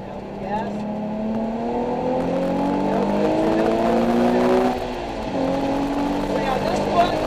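A Nissan 370Z accelerates around Laguna Seca race track, its engine note rising steadily in pitch through the gears, loud and close as if heard from inside the car, with a brief dip in revs near the end.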